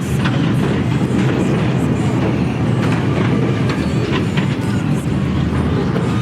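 A loud, continuous rumble and rattle of the Runaway Mine Train roller coaster at Edinburgh Christmas Market running on its track, with rhythmic clacking throughout and no pauses.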